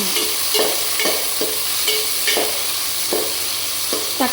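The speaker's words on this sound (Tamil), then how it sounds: "இரண்டு தக்காளி சேர்த்து வணக்கவும்" Tomatoes sautéing in a pan with small onions and curry leaves for a Tamil fish curry, a steady sizzle broken by repeated scrapes of a spatula stirring at a regular pace, close and fairly loud with no talking.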